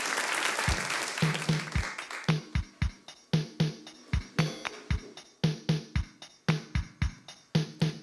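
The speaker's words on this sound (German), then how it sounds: "Bitte einen ganz schönen Applaus für die heutige Künstlerin hier auf der Bühne" A late-night show audience claps for a singer on stage in rhythmic, pulsing bursts of applause that swell and fall in regular waves, loud and close.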